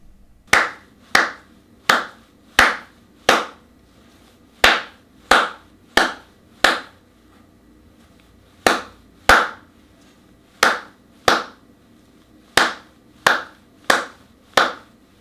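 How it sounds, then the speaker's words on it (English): A rhythm clapped or tapped in crisp, close, separate strikes grouped in short phrases of four or five with pauses between, alone and without speech. "Clap or tap the rhythm."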